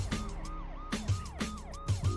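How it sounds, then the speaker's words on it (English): Several police car sirens wail together with repeating up-and-down sweeps, layered and fairly loud, with no voices. "You hear cop sirens in the distance."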